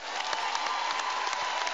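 A comedy club audience claps and cheers in a dense, steady burst of applause mixed with crowd whoops, loud and close, with no speech over it.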